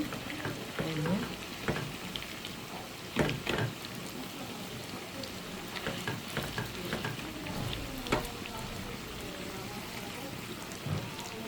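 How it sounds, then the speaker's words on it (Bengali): Malabar spinach fritters frying in hot oil, a continuous crackling sizzle with scattered pops and spatters and occasional clatter from the pan, no talking. "এখন আমি এক একটা করে বড়া দিয়ে দিব সব দিয়ে নিচ্ছি ভাজা হোক"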